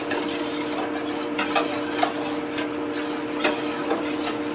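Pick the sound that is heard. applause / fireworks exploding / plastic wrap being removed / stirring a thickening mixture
stirring a thickening mixture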